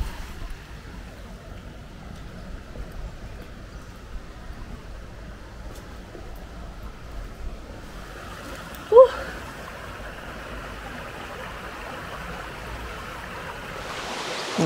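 A stream flows through the Barranco Azuaje gorge on Gran Canaria, a steady, soft rushing of water that runs throughout, with one brief knock near the middle and a louder burst at the very end.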